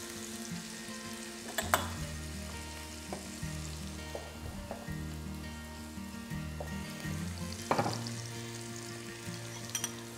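Red and green peppers sizzle and fry in a pan for shrimp curry, a steady low crackle broken by a few soft clatters of stirring.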